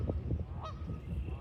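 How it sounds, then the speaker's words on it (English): Geese honking at a backyard pond beside an oak savanna, a few loud calls standing out over steady low outdoor rumble, one sharp nasal honk clearly in the middle. "Geese are telling me to go away."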